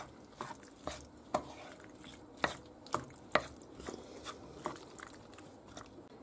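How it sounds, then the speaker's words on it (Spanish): Cooked macaroni being stirred together in a pot for baked chorizo macaroni, with a series of soft, irregular wet clacks and scrapes from the spoon, each fairly quiet and close. "Echamos los macarrones y lo mezclamos bien."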